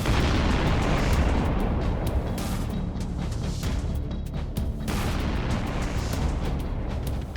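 Missile blasts rock a war-damaged city in the Donbas region of Ukraine, a dense, continuous roar of booms and rumbling with sharper bursts breaking through, loud and sustained.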